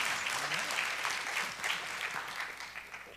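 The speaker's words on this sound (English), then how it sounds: "another round of applause for our panel" A conference audience claps for a panel at the end of a Q&A session, fairly faint and distant, with murmured voices underneath the even, sustained applause.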